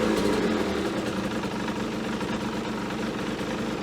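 An Aprilia motorcycle engine idles at about 1500 rpm after a cold start, a steady, close mechanical tick-over with a constant low throb and no voices.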